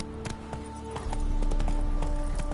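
Horse Roach's hooves clip-clop in The Witcher 3: Blood and Wine, a steady run of fairly close hoofbeats over a low rumble of game ambience and faint tonal music.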